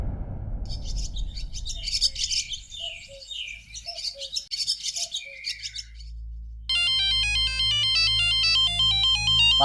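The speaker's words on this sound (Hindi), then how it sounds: "माधुरी, तुम्हारा फोन है? किसका है?" Birds chirp and tweet for several seconds, then an electronic phone ringtone starts up and keeps ringing loudly over a low hum.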